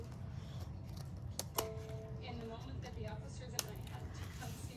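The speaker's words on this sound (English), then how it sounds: "Take my scissors, trim right across there." Scissors make a few crisp snips trimming craft paper on a Christmas tea cup tea holder, close and quiet against a steady low room hum, with speech nearby.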